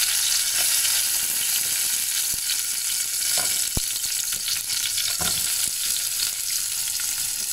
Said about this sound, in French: Je vais laisser les oignons et l'ail revenir dans l'huile tranquillement avant de rajouter mes lardons.